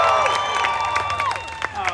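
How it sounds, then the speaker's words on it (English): Studio audience clapping and cheering for Deadpool at a story-time event, a steady patter of applause with whoops, heard under a voice talking over it throughout. "Oh, you guys don't have to clap."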